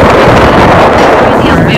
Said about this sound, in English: it's really windy out here on the Mississippi